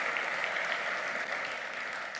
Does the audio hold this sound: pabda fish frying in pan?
no